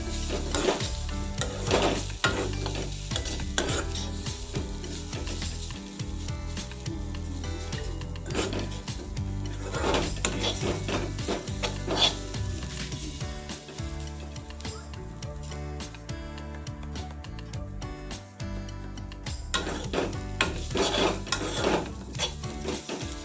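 Chutney of jika (ridge gourd) peels being stirred in a pan over lowered gas: continuous scraping and clattering of a utensil against metal, busy and fairly close, with no talk.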